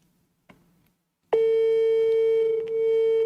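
A soft click, a pause, then a steady electronic phone call ringing tone sounds loudly and continuously, unbroken for about two seconds.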